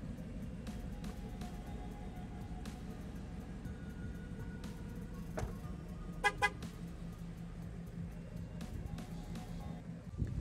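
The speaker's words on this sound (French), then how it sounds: "Surveillance des clés sans contact par confirmation klaxon." Two short car horn toots from a Ford Mustang confirming keyless lock, close together amid steady engine and road noise, with no one speaking.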